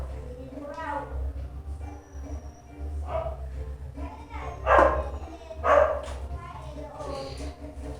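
A mixed-breed mongrel dog named Jack barks and yips several times, with a few louder close barks standing out, while a person talks over and between them.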